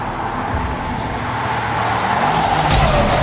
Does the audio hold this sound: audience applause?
no